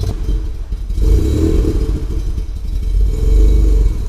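The Maserati V6 in a Citroën SM roars loudly and close by, swelling in two revving surges with a rough, throaty mechanical clatter between them and no voices.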